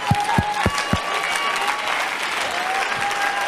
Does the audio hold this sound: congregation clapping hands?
yes